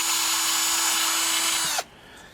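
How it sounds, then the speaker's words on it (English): A power drill boring a small hole through an outboard motor's upper crankshaft seal at the edge of the cylinder block, a steady high-pitched whine lasting under two seconds before stopping sharply. "just drill a hole right at the edge of the seal, where the seal meets the steel on the cylinder block"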